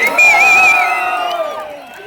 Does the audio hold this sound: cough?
no